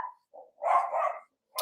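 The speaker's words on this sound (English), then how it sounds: "And the dog barks." A dog barks indoors, giving a short yip followed by one longer, rough bark and the start of another. The barks are fairly close and clear, and nothing else is heard.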